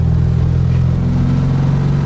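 A VW Beetle engine with a Weber 34 ICT carburetor, still a little cold, running with a loud, steady low rumble heard from close by, with no voices.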